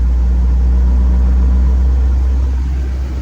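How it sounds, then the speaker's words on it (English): A 2014 Chevy 4500 Glaval mini bus with a wheelchair lift idles in park, its engine giving a steady, close, low rumble that holds even for about three seconds. "Now it's idling in park again."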